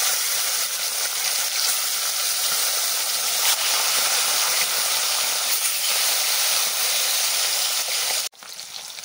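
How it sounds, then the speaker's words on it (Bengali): Fish frying in very hot mustard oil in a kadai gives a loud, continuous close sizzle and hiss that stops abruptly near the end. "মাছ ভাজার জন্য কড়াইয়ে সরষের তেল দিয়ে দিচ্ছি, খুব ভালো করে গরম করে নিয়েছি। দিয়ে দিচ্ছি মাছগুলো।"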